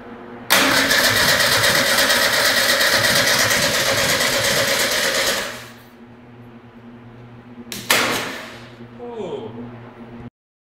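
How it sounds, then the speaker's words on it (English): A rebuilt Blakely Bernardi car engine fires up and roars loudly for about five seconds, cuts out, then briefly catches again in a second short burst before stopping. "He's rebuilt the car pretty much here and rebuilt the valves, the engine, so we're going to see what happens."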